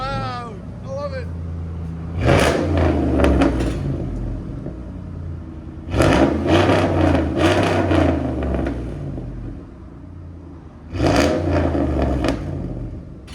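A straight-piped RAM V8 pickup engine, likely one of the 4.7L, 5.7L, 6.4L or 6.2L MOPAR V8s, idles with a low rumble, then is revved hard three times in loud, roaring bursts with pauses at idle between them.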